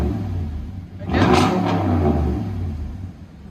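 A 2018 Toyota Tundra's 5.7-liter V8 with a Carven dual exhaust revs hard, building from a low idle rumble into a loud, deep roar that holds for a couple of seconds before settling back toward idle.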